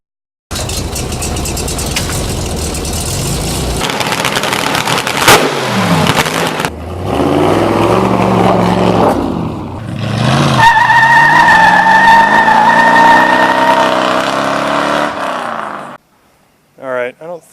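A Jeep 4.2 liter inline six with headers, a two-barrel carburetor and a bad header leak, idling and then revving in several rising and falling bursts, loud and close, with a brief tonal whine partway through.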